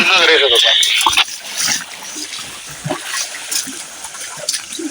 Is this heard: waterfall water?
yes